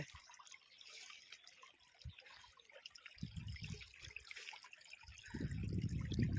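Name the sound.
water flowing from pipe into field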